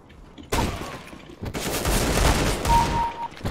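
Rapid bursts of gunfire during a Counter-Strike: Global Offensive match arrive loud and close, with a sharp volley followed by sustained firing and a brief tonal cue near the end.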